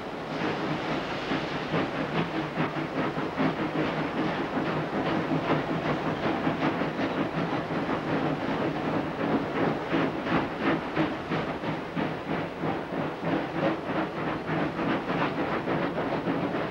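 A steam train heads inland toward George and the Outeniqua Mountains in South Africa, with a steady rhythmic chuffing and clatter of wagons under a continuous hiss. It runs close and loud without a break.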